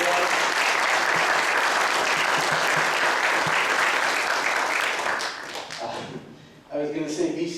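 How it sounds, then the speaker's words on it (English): A room of attendees at a Minnesota House district candidate forum gives a loud, sustained round of applause that fades after about five seconds, followed by a few scattered claps and a voice. "good round of applause"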